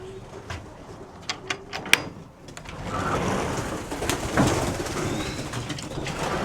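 Racing pigeons coo softly in an allotment loft, with low murmuring calls, a few sharp knocks and rustles, and a broader shuffling noise building near the end.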